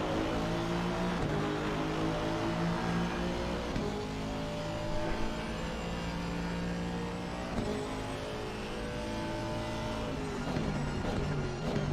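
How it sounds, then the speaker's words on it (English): Several GT3 race cars in Assetto Corsa Competizione at Laguna Seca at night, engines screaming and shifting as they pass, with rising pitch sweeps and gear changes layered over a continuous loud roar. "How good do these cars sound?"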